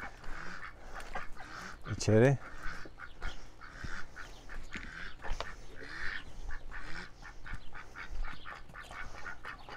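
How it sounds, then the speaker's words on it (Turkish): Ducks in a poultry coop give a short burst of loud quacking near the start, then sit under ongoing talk with faint bird calls around them. "Ördeklerimiz."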